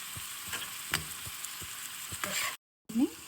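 Curry leaves, green chilies and finely chopped garlic fry in oil, a quiet steady sizzle with light spoon taps and scrapes, cutting to silence briefly before a louder stir returns.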